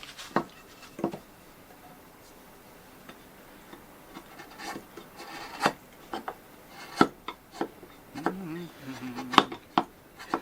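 A 50-year-old chisel pares wood on a jazz guitar neck in a workshop, giving short scraping strokes in irregular bursts at close range, with a person talking quietly between cuts.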